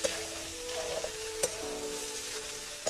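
Okra sautéing with turmeric in a pan over a chuli wood-fired stove gives a steady soft sizzle, with a few sharp clinks from stirring scattered through it.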